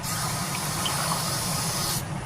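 A steady, close hissing rush of cold water pours continuously, filling a jar, then the bright hiss cuts off near the end.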